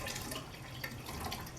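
Water splashing and spilling from a vase being filled for a floating-candle spring centerpiece, a brief close, steady wet splatter with small drips.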